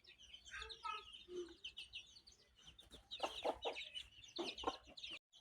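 Hungry chickens waiting for rice cluck close by, scattered calls at first, then a denser burst of clucks and squawks; faint movement noise sits underneath.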